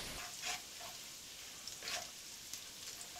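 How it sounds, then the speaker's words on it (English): Garlic fries in a pan with a little prawn stock over a low to medium flame, a soft steady sizzle with occasional louder spits and stirring scrapes, faint and close. "we put in the garlic with that little bit of prawn stock. Lightly brown the garlic"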